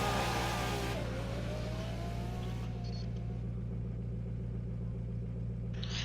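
A Pagani Zonda launching from a race start in a racing game, its engine roaring loudly as it revs up, then settling into a steady, sustained drone with no voices.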